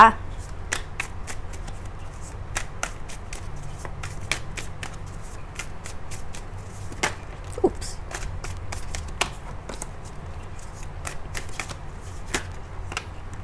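Tarot cards being shuffled close up, a run of crisp riffling clicks and flicks at an uneven rhythm over a quiet room, with someone speaking at times.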